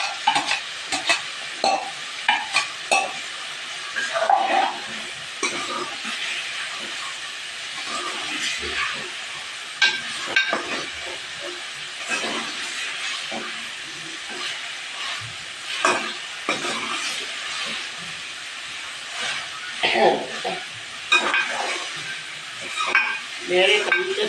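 Raw potatoes for aloo palak (spinach) frying and being stirred in a pan, a steady close sizzle with scraping stir strokes throughout, no talking.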